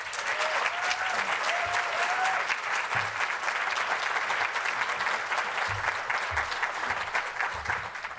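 A room full of people at a chamber of commerce spring breakfast applauds to welcome a speaker, with dense, sustained clapping that stays loud and even throughout.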